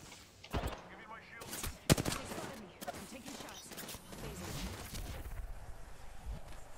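Gunfire in the Apex Legends video game: several sharp shots and short bursts ring out in quick succession, some louder and nearer, over a busy battle backdrop, with brief muffled voices in between.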